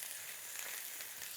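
Kangaroo steak flash frying in a hot pan, giving a steady, close, continuous sizzle with no talking.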